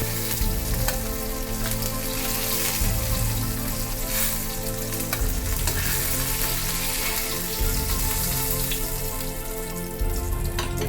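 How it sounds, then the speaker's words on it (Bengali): Pieces of fish fry in hot oil in a pan, a dense, continuous crackling sizzle heard up close for about eleven seconds over a low, steady hum, with no talking. "এবার মাছগুলো ভেজে নেব। মাছ কিন্তু হালকা ভাজা হবে।"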